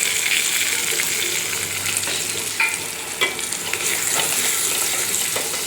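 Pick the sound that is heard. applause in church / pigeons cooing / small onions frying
small onions frying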